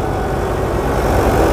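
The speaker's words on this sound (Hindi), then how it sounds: "महिंद्रा अर्जुन 555 DI ट्रैक्टर लगा हुआ है इसके ऊपर" A Mahindra Arjun 555 DI tractor engine drives a paddy thresher, giving a loud, steady low rumble and mechanical roar that holds constant over the short span, with no talk.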